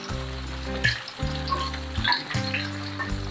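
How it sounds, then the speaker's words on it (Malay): Stingray pieces frying in hot oil in a home kitchen, crisp sizzling crackle held steady throughout, loud and close, with brief low thumps as the pan or spatula shifts. "Ikan pari kita ni dah siap masak, dah garing elok ni."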